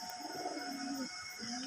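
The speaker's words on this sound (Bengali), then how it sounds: "সব পুরাতন কবুতরগুলো আছে" Pigeons coo softly in a home breeding room where older birds are kept. A short, faint, low murmuring coo with a slight rise, heard alone without any talk.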